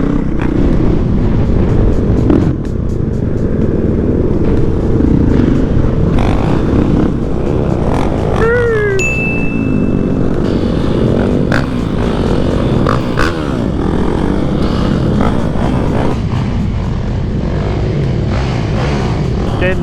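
Motorcycle engine running steadily while riding with a group, a loud continuous drone with road and wind rumble throughout and brief higher whines, occasional voices underneath.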